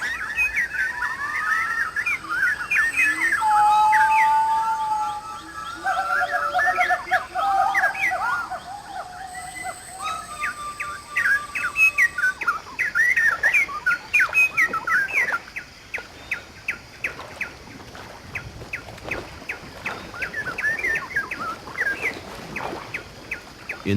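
Tropical birds call along a riverbank in New Guinea, a dense chorus of whistles, chirps and squawks, close and lively, then a run of rapid repeated calls in the second half.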